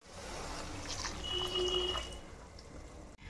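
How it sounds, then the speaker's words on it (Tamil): Water poured into a pot of cooking black-eyed peas for a goat liver gravy, a close, continuous splashing pour that swells and then tapers off toward the end. "இன்னும் ஒரு 1/2 டம்ளர் அளவுக்கு தண்ணி சேர்த்துக்கிறேன்."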